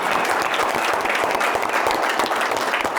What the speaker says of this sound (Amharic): አጨብጭቡላችሁ።